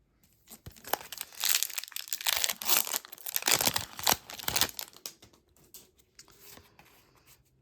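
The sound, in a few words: tearing open LOTR TCG booster packs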